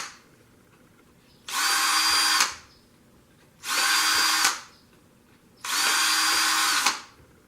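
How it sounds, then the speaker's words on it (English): A power drill fitted with a 1/4 inch bit runs in three steady bursts, each whirring for under a second and then stopping, while holes are cleaned out for a twig tree build. "Just run the drill bit in."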